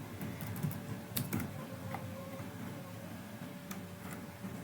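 Quiet, irregular clicking of keys on a computer keyboard as a credit card number is entered, faint and close, with soft taps in small clusters and no talking.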